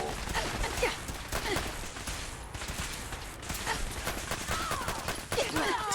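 Rapid bursts of gunfire in the video game Fallout 4, dense repeated shots close by in a busy firefight, with brief voice-like sounds mixed in.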